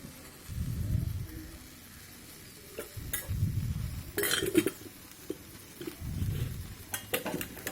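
Ivy gourd (dondakaya) pieces frying in oil in a pan on a gas stove, with a soft sizzle and occasional spoon scrapes and clinks against the pan, close by.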